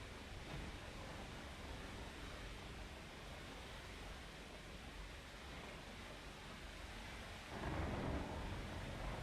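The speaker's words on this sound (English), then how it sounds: "Pirate never lets a little storm keep them from going out on the ocean." Thunderstorm in the pirate sailing game Windrose, a steady roar of rain and rolling thunder that swells louder near the end, with no voices.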